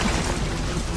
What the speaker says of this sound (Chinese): 怎么炸了？